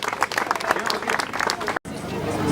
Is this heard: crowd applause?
yes